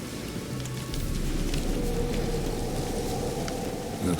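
Continuous rain patter in The Witcher 3, in Crookback Bog, dense and steady, filling the short clip without any talking.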